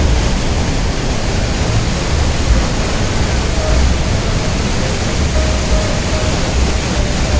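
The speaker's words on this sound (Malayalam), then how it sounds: "വെള്ളം ഇങ്ങനെ ആർത്തലച്ചൊഴുകി താഴോട്ട് പോവുകയാണ്." Rhine Falls in cold weather, its water crashing down in a loud, unbroken roar that fills the air close by, with no voices heard.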